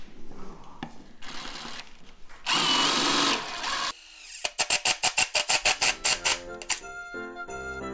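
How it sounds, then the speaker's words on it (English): An electric drill whines in short bursts, then a sustained loud run, followed by a rapid series of stuttering pulses as it bores a hole in the center of a DIY lighted Christmas tree frame. "I'm going to drill us a hole in the center."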